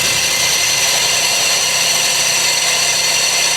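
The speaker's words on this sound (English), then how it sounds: "It's the air compressor." A car's air compressor runs under the hood of a cheap auction car, giving off a steady, loud, unbroken mechanical whir and hiss with no pauses over the few seconds.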